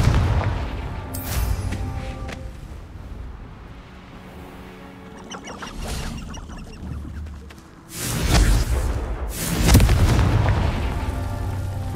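Repeated Confringo fire spell explosions in Hogwarts Legacy: several booming blasts at uneven intervals, the later ones louder and heavier, each leaving a rumbling tail, with no speech.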